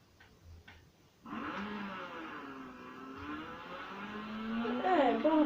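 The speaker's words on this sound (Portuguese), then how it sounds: "Agora bora testar só o nitro e pronto." A car fires its nitro boost in the racing video game Need for Speed Carbon: after a few quiet ticks the engine surges into a loud sustained roar, climbing in pitch with rising whines and squeals toward the end.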